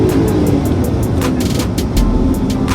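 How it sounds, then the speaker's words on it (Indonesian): A 1983 Mercedes-Benz 280E W123 'Tiger' sedan on the move, heard from inside as a loud, steady engine and road drone with a low rumble, without talk. "Boleh kita mungkin langsung coba mobilnya mas ya?"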